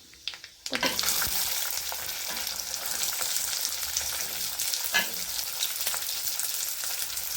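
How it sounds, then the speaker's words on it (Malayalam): Garlic and mustard seeds fry in oil for an Onam-style garlic pickle. A loud, steady sizzle starts abruptly after a brief quiet moment and crackles continuously, with occasional stirring scrapes. "വെളുത്തുള്ളി വാട്ടുന്നതനുസരിച്ച് കുറച്ച് കടുക് ഇട്ട് കൊടുക്കാം"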